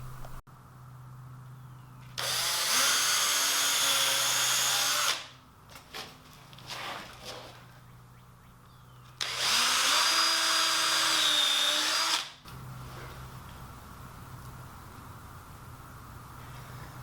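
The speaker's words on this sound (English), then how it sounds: "drilled pilot holes in each of the joints, and then glue and screw them together" Power drill driving screws into joints of a green treated lumber fence, two loud high whining bursts of a few seconds each with quieter handling noise between them and a faint low hum underneath.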